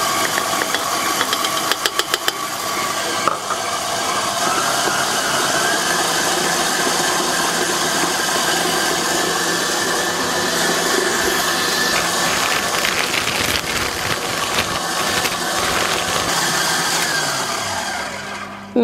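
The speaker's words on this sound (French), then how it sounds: "là j'ajoute mon sucre glace et je peux réaugmenter la vitesse du batteur" A stand mixer whisks meringue as icing sugar is added. Its motor gives a steady, loud whir and mechanical rattle for the whole stretch, sometimes with faint clinks of the whisk, and nobody speaks.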